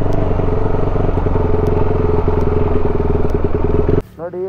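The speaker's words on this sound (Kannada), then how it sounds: "ಫಸ್ಟ್ ಗೇರಲ್ಲಿ ಹಾಕ್ಕೊಂಡು ಹತ್ತಿಸ್ತಾ ಇದ್ರೆ ಈಸಿಯಾಗಿ ಹತ್ತುತ್ತೆ" A motorcycle climbs a heavy, steep road in first gear, its engine loud and close with a steady throbbing chug that cuts off near the end as a voice begins speaking.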